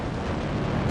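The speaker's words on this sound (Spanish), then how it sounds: "Se eleva muchísimo la temperatura del tanque y acaba explotando." A refinery tank explodes in a loud, sustained, rumbling roar that fills the whole second without any break or any voices.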